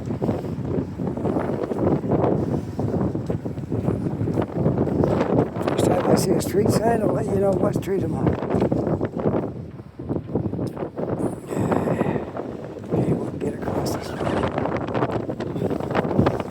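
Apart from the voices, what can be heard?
strong wind blowing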